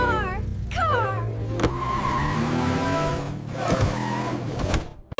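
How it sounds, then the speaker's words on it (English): A cartoonish car sound effect for a children's English lesson, with engine revving and tire squeals rising and falling over about five seconds, loud and busy and ending abruptly. "It's a car!"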